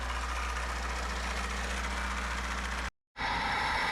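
A Lada Niva 2121 engine idles roughly and steadily up close, a dense, uneven rumble that cuts out abruptly for a moment before resuming.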